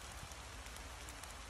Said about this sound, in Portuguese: A chuva, hein?